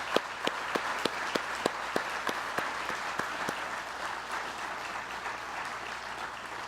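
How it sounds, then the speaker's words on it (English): Audience applause at an award ceremony for an awardee and Hall of Fame inductees: a steady wash of many hands clapping, with sharp individual claps early on that thin out as the applause settles and fades slightly toward the end. "Please join me in a round of applause for this year's ACCR awardee and Hall of Fame inductees."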